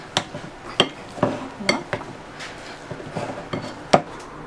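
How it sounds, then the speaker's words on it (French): Boiled potatoes are pressed with a potato masher in a large pot, making a close series of irregular thumps and metallic clinks with soft squishing between strokes, with no talking. "On réduit la pomme de terre en purée avec un écrase-patate"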